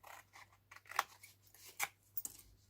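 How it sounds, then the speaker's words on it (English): Scissors snip wedges into a paper lid for a stacking tealight holder, making a quiet series of crisp close cuts with soft rustling of the paper between them. "I'm going to cut my wedges as I'm going this time"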